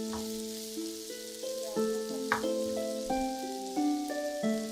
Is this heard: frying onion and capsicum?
yes